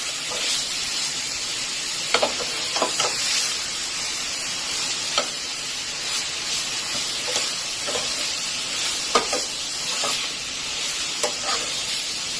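Prawns stir-frying with broccoli and carrot in a ginger and garlic sauce, a steady sizzle and hiss with periodic scraping clacks of the utensil as the food is stirred.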